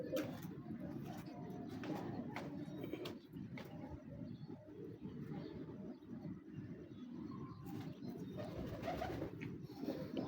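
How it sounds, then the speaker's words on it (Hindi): Pet pigeons cooing nearby, repeated soft throaty coos overlapping in a low steady murmur, with light rustling and occasional background noise. "बहुत अच्छा कबूतर है।"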